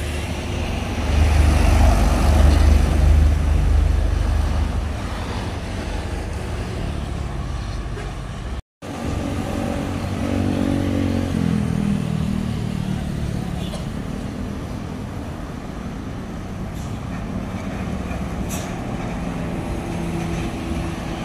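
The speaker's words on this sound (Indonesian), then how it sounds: "melintas ada bus Zaki Bonatur ya, dengan bodi terbaru SR3 dari Laksana ya" A medium tour bus with a new Laksana SR3 body rumbles past on a road near Lembah Harau, a steady engine drone rising and fading, with someone talking over it.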